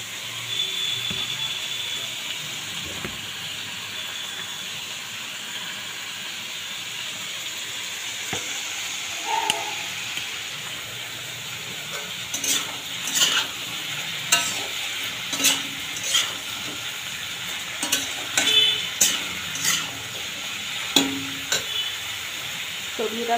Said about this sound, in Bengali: তো এটা একটু সবজিটা ভাজা হতে থাক